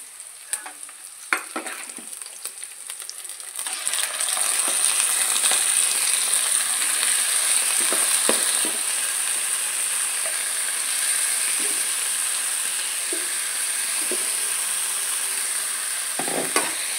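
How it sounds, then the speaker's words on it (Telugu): Chicken pieces frying in a pan, beginning with a few clacks and light clatter before settling into a steady, loud, broad sizzle that holds for most of the time, with occasional scraping stirs and no talking. "అందులోకి మనం చికెన్ వేసేసుకోవాలి"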